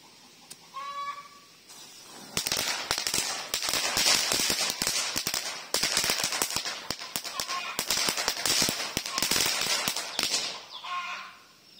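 A long, rapid string of firecrackers hung on a tree crackles and pops loudly for several seconds, with birds chirping before and after the burst.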